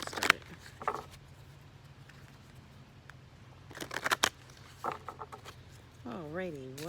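A deck of cards being shuffled in quick riffle bursts, faint and close, with a short patter of card noise and a voice briefly heard toward the end.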